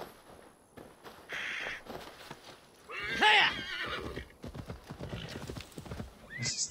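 A horse in Assassin's Creed Valhalla, with rhythmic clip-clopping hooves close by, a loud whinny in the middle, crow caws, and short bursts of game sound over the walking.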